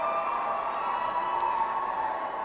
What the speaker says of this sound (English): Crowd is ramped up.